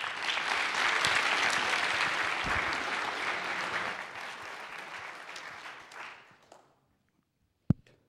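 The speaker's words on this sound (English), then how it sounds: "Big round of applause." An audience at a collegiate cyber defense competition awards ceremony breaks into sustained applause, loud and dense at first, then thinning and fading out, followed by a single sharp knock after a brief silence.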